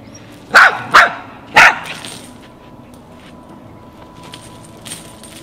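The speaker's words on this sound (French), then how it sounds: "ce petit pinscher qui a un trouble de grade d'agressivité, vous voyez, à l'aboiement" A small, aggressive Pinscher gives three sharp, high barks in quick succession, then a faint yip later, with quiet room noise in between.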